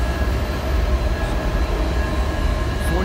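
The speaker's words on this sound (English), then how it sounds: "there is a train on the other side." Low, rumbling rail noise with a steady hum, like a train rolling past on the adjacent track, continuous throughout.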